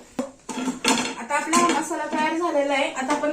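Roasted brinjals lifted out with metal tongs into a vessel, clinking and scraping of metal utensils in quick clatters, close and fairly loud, with faint talk mixed in.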